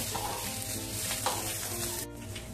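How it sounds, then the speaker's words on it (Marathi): Garlic, coriander seeds, black pepper and cloves fry in a pan, sizzling steadily at close range while being stirred, with soft scraping and no voices. "आता हा लसूण धने मिरे आणि लवंगा हे सगळं आपण टाकून घेऊया। चांगलं परतवूया।"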